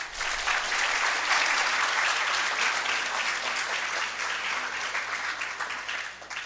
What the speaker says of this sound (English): Now, yes, you can clap.